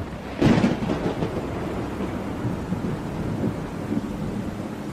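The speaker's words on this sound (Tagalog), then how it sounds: "ang lakas po ng kulog at kidlat, no?" Loud thunder crack bursts out near the start, then rumbles on under steady rainfall through the rest of a night storm in a remote rural village.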